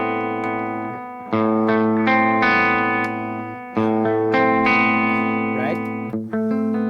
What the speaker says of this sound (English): It gives more of the bridge pickup, a heavier sound, a little more low end